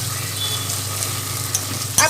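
An egg sizzles in hot oil in a pan, a steady close crackling fry with a brief scrape or stir near the end, with a voice faintly under it.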